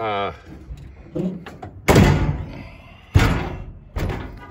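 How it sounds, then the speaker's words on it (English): An old door that binds at the top is forced shut, giving three heavy thumping slams at intervals, loud and close, after a brief moment of someone speaking. "this door never wants to open. I mean, shut properly."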